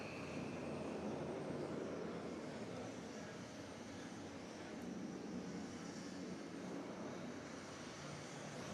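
An Alaska airliner departing JFK International Airport gives a steady, broadband jet roar that holds for the whole stretch without clear peaks, heard from a distance.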